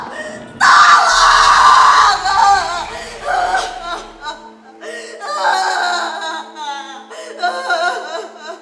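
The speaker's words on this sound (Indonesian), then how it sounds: "Sia-sia kami berteriak sekuat tenaga." Several performers scream loudly for help during a university theatre play on stage, a sustained burst of shrieks that then breaks into shorter cries and strained vocal sounds.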